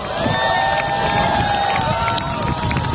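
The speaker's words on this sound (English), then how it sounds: "It's so wild being around like a whole crowd just pumped up." An excited crowd cheers and shouts loudly and steadily all around, with children's voices and wind buffeting the microphone.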